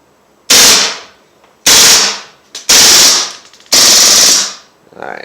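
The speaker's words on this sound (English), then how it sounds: "we're gonna just do a full auto mag dump here" Four loud, close full-auto bursts from a BB gun emptying its magazine into a homemade portable pellet trap, each burst a sharp rapid rattle about half a second to a second long, separated by brief pauses.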